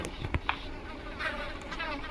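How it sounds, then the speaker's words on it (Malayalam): A fly buzzes in a video game, a faint, thin insect drone holding steady for about two seconds with a couple of soft clicks near the start. "ഒരു ഈച്ചേൻ്റെ ഒക്കെ ശബ്ദം"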